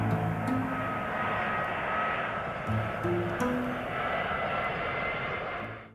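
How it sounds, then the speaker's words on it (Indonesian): Steady, loud broadband roar of an Airbus A350 XWB twin-engine widebody jet airliner's engines, holding even for the whole stretch with no talking. "Airbus A350XWB adalah keluarga pesawat penumpang jet berbadan lebar dengan twin engine yang dikembangkan oleh"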